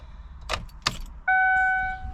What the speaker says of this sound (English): Now let's see, we'll turn the vehicle on